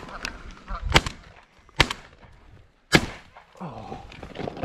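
Three loud, sharp shotgun blasts spaced about a second apart ring out during a solo goose hunt outdoors, with some honking and the hunter's voice in between.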